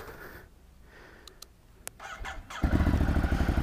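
Quiet clicks and a brief mechanical rattle, then a 2019 Ducati Hypermotard 950 motorcycle engine starts up and settles into a loud, steady idle close by.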